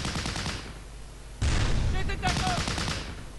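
Battlefield gunfire in the WWII strategy game Close Combat: Last Stand Arnhem, dense rattling bursts and volleys that jump louder midway, with a voice talking faintly underneath.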